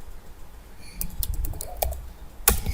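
Typing on a computer keyboard while writing HTML, a close run of quick, uneven key clicks that build into a busier burst and end in one louder tap, with no talking.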